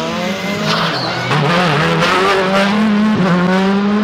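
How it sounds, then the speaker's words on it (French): Volkswagen Polo R5 rally car on a special stage at the Rallye des Grands Fonds, its engine loud and close, pitch rising and dipping through gear changes and a brief lift, with a tire squeal. "Polo R5 groupe R5."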